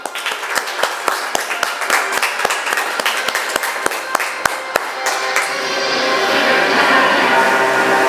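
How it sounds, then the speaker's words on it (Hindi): Studio audience clapping at the opening of a TV quiz show, sharp distinct claps in a steady rhythm that blend into a denser, sustained wash of applause toward the end; fairly loud and close. "एक बार जबरदस्त तालियां।"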